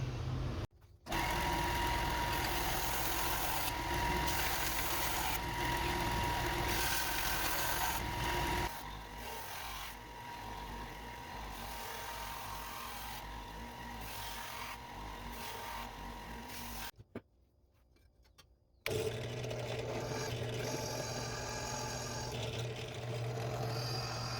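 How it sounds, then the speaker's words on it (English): A grinder putting a bevel on a trench knife blade, a long steady grinding whine with shifting texture, a brief drop to quiet, then the grinding resumes close and loud. "Gonna go put it on the grinder and put in a bevel."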